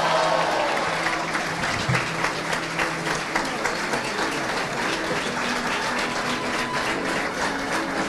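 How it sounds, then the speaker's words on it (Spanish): Sustained applause from the audience at a graduation ceremony for a radio, television and digital media diploma course, dense and steady clapping that fills the room for several seconds without speech. "Por favor, un aplauso extra"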